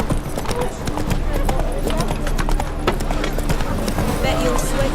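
Roach, Geralt's horse in the video game The Witcher 3, gallops with a steady, fairly loud clip-clop of hooves, set among dense game ambience and other mid-level sounds, with voices speaking over it.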